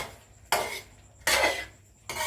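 A spatula scrapes and stirs pork rinds in a frying pan: three distinct metallic sweeping strokes, each sharp at the start and then fading, close up, with no talking.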